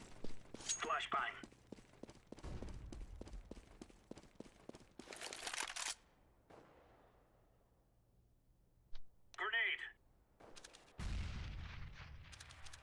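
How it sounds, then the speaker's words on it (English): Flashbang grenade going off in a shooter video game, a sharp close burst with a bright ringing tail amid other gunfire bursts and booms, while a player talks over the game sounds. "Flashbang."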